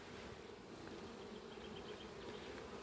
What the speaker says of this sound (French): Ça c'est un essaim, ouais. C'est celui que j'ai créé au mois de mai